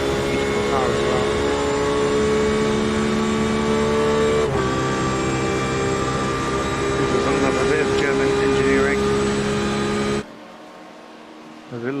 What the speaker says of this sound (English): have a little listen to this Porsche engine, which is a beautiful car as well